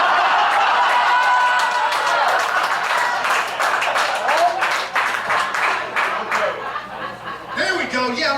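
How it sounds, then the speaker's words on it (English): A comedy club audience claps steadily and loudly, the applause mixed with chuckles and laughter and thinning out toward the end. "you guys are clapping when I say what team I like"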